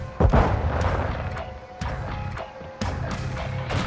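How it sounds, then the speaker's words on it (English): A flash grenade thrown in Call of Duty Modern Warfare 2 multiplayer, with a sharp close bang and crashing impacts, followed by more thuds and bursts of gunfire amid game noise. "Throwing flash grenade."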